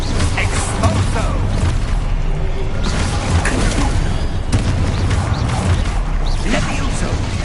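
Exposo explosion spell cast in Hogwarts Legacy, heavy booms and whooshing blasts with mechanical clatter, dense and loud throughout, with a voice over the action.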